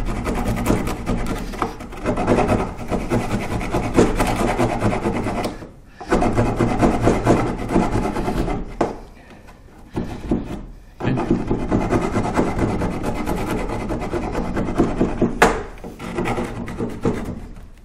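Wood rasp filing a door edge while a lock is being fitted, repeated rough scraping strokes in bursts with short pauses, loud and close, no talk.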